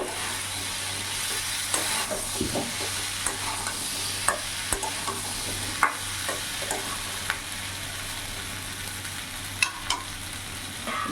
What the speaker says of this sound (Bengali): তার সাথে কেটে রাখা ক্যাপসিকামও দিয়ে দেবো। ভালো করে একসাথে সব কিছু মিশিয়ে নেব।